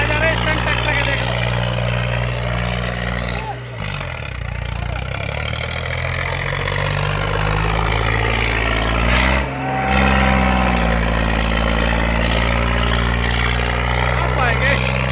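Sonalika 50 and Eicher 551 tractor engines idle steadily at a rural field tug-of-war contest, a loud continuous diesel rumble with two brief dips, while someone talks over it.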